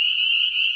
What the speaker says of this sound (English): there's a low spot here, and we found a lot of frogs have been